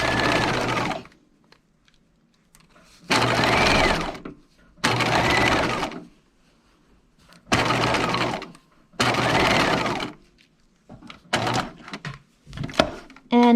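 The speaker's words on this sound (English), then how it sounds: "Baste those pocket layers in place." Several separate bursts of a sewing machine basting the pocket layers of a dress, each a loud, close run of fast needle chatter lasting a second or two, separated by quiet pauses, with shorter stitching spurts at the end.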